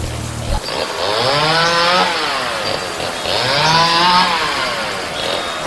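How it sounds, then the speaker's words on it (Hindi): A cartoon-style chainsaw roars loudly and close, its engine pitch swelling and sagging in two long revving waves with no voices over it. "चेन सॉ की आवाज बहुत तेज आ रही है"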